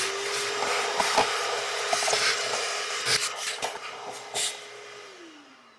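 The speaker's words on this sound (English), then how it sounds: "now is a good time to vacuum any debris out of your airbox" A vacuum cleaner pulls debris out of the airbox of a 2013-2019 Ford Escape, holding a steady whine with scraping and rustling as the nozzle moves around, close and alone, then winding down at the end.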